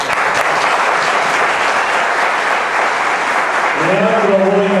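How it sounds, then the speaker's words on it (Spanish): Applause from a concert audience at a Colombian music masters event, dense and loud and sustained by many hands, with a low sung or spoken tone surfacing near the end. "gracias a todos ustedes por ese gran aplauso"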